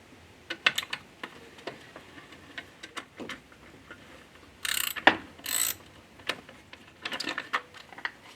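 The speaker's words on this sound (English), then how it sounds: "12mm bolts that I'm going to have to use to loosen the alternator and then tip it out of the way" Ratchet wrench loosening 12mm alternator bolts on a 1995 Subaru Legacy, heard as short bursts of rapid clicking spread across the clip, with a few louder, longer ratcheting runs near the middle; no talking.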